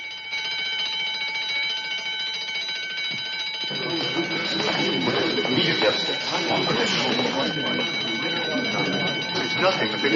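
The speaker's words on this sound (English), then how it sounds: "We're just testing upstairs. Alarms and everything." Building alarm ringing during a test upstairs, a steady electric bell tone running throughout, with several people talking over it in a room.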